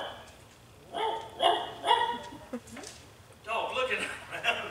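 A voice mimics a dog barking in several short, sharp bursts, close and moderately loud, with brief pauses between the yaps.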